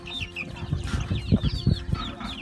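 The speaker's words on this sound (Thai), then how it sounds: "นี้ก็เป็นพวกไก่ดำแล้วก็พวกไก่ชนน้อยนะครับ" Black chickens, young fighting cocks and other farm poultry cluck and chatter together in a coop, with several birds calling over each other in short, uneven bursts at close range.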